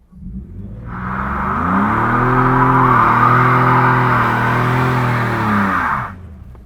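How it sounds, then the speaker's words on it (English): A Ford Raptor pickup truck's engine roars steadily at high revs for several seconds during a burnout, with a hissing tire screech on top, then cuts off abruptly; no voices. "Let's go do a burnout"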